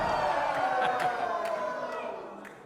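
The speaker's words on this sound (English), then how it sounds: "And listen to this crowd. They're behind the hometown boy." Wrestling crowd at a live WrestleForce event in Harlow, roaring steadily for their hometown wrestler, a broad dense cheer with scattered whoops that slowly fades over a few seconds.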